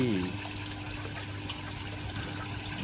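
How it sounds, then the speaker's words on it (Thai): Water trickles and splashes steadily from a garden waterfall fountain, a soft continuous wash with faint background voices. "น้ำตกน้ำพุ"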